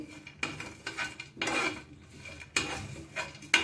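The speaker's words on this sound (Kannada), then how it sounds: "ಈಗ ಒಣ ಕೊಬ್ಬರಿ ಹುರ್ಕೋತೀನಿ ನಾನು ಸಣ್ಣ ಉರಿ ಇಟ್ಟನ ಹುರ್ಕೋಬೇಕಾ" Dry coconut roasting in a pan over a low flame as a spatula or spoon stirs it, producing repeated metallic scrapes and clinks against the pan in an uneven rhythm, close and moderately quiet.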